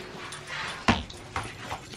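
Two dogs play together while running after a thrown toy, giving a sharp close yelp or bark in the middle with softer whimpering and scuffling around it.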